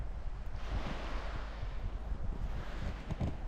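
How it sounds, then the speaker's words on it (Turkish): Steady light wind rushes across the microphone beside the sea in a cove, with soft surf washing underneath in a continuous, gentle roar. "Hafiften bir rüzgar esiyor."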